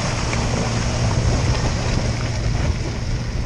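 Off-road truck with its locker engaged crawling slowly through creek mud on Nitto Ridge Grappler tires, a loud, steady broadband rumble of engine and churning throughout with no clear breaks.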